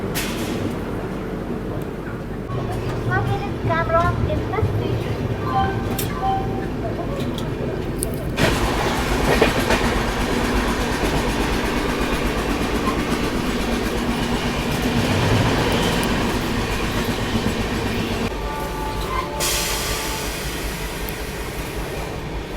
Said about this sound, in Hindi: लेकिन अपनी तमिलनाडु एक्सप्रेस भाई साहब ये तो बलारसा पे रुकी है